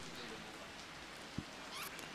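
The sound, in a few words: rain falling during a cricket match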